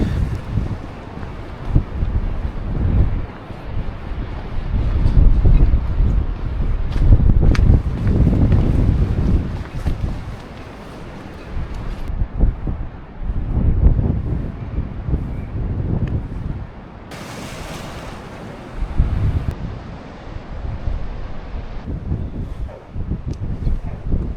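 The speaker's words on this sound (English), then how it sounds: "you can just see the waves crashing against the rocks already" Wind buffets the microphone along a rocky seashore in rainy, blustery weather, with surf rolling and crashing in steady surges against the rocks throughout.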